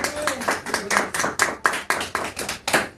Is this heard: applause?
yes